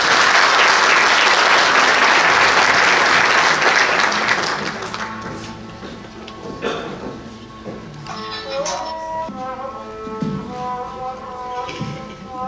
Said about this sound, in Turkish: Alkışlarınızı lütfen.